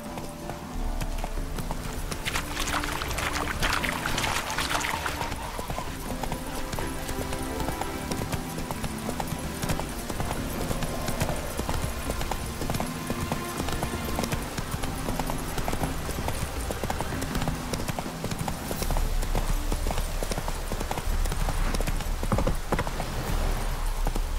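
Roach the horse in The Witcher 3 moves along with steady clip-clop hoofbeats, loud and close throughout under a dense layer of game music and ambience, with no one speaking.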